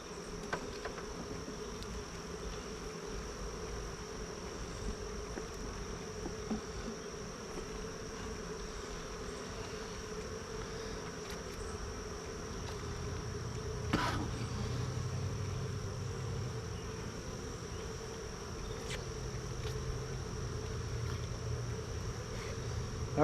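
Bees buzz around a homestead hive, a faint continuous drone with a steady high whine and occasional louder passes close by, low and quiet throughout with no talk.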